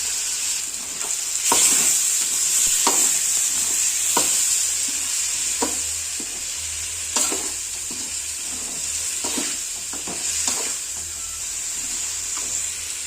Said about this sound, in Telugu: చూడండి ఎంత బాగా ఏగుతుంది.